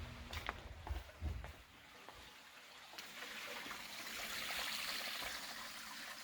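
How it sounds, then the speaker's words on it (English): Water drains down through basement plumbing pipes as a faint, continuous trickling rush. A few knocks come early, and then the flow swells into a steady hiss. "You can hear the water draining down."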